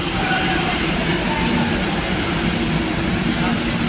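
An MRT train arrives at a station in a steady, loud rumbling wash of rail noise and hiss, with a faint voice in the background.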